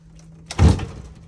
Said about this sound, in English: So the door kind of just jams a bit.